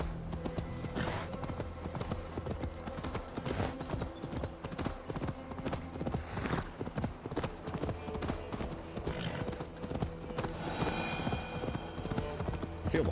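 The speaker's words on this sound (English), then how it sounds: "I feel the horse slow down as you go up the inclines as well." Horse hooves clip-clop steadily in Assassin's Creed Valhalla as a rider travels, the rhythmic footfalls running throughout over game music with occasional whinnies and brief spoken lines.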